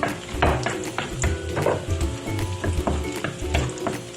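Garlic sautéing in a pan ahead of chicken liver, a steady close sizzle and crackle with scattered scraping and clinks of a utensil against the pan.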